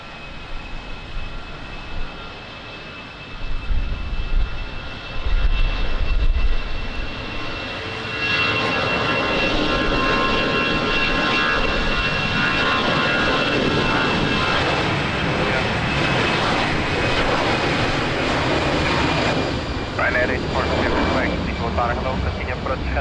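An airliner takes off from runway 20 at Lisbon Airport in rainy weather, its jet engines building from a distant rumble to a loud sustained roar that lingers as it climbs away.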